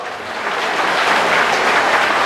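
Sustained applause from a crowd thanking the organizers at a political gathering, a dense steady wash of clapping throughout with no pauses.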